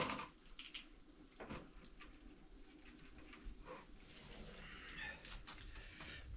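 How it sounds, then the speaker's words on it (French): Water splashes and runs steadily during a rinse in a repair on a 1985 Mazda 626 coupé, a faint, close, continuous wash with a few louder bursts and no talk. "Je vais refaire un rinçage parce que c'est loin d'être nickel."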